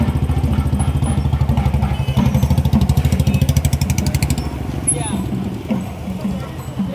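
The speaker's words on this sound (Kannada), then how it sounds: "ಸ್ನೇಹಿತರು ಬೈಕ್ ಓಡಿಸ್ಕೊಂಡು ಬುಲೆಟ್ ಓಡಿಸ್ಕೊಂಡು ಹೋಗ್ತಿದ್ದಾರೆ." A procession of Bullet motorcycles ridden by Ayyappa devotees at a Deepa Utsava festival in Bhadravathi passes close by. Their deep, rapid thumping exhaust beat is loud at first, then fades slightly as they move past.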